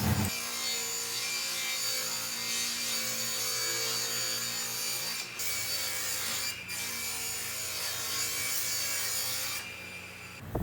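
Hand saw rasping back and forth through wooden boards being cut to rough size for a storage cabinet, a steady continuous sawing stroke with brief pauses, close and fairly loud with no talk.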